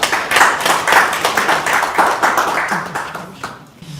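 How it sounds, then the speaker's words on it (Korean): An audience in a seminar room at the National Assembly members' office building claps loudly and steadily as a lawmaker is welcomed to the stage, the dense clatter of many hands fading toward the end. "큰 박수 부탁드립니다."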